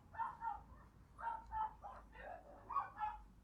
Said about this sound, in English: someone's obviously taking the dogs out